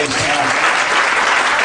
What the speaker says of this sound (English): Give the Lord a hand clap of praise tonight.